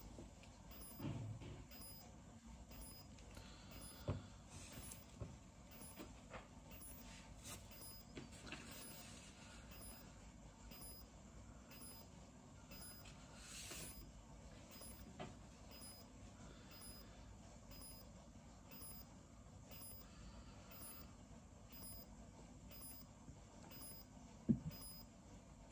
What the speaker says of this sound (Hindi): ये आपको आवाज़ से ही पता चलेगा कि इंक चार्ज हो रही है